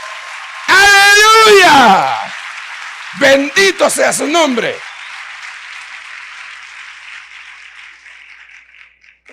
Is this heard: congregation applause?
yes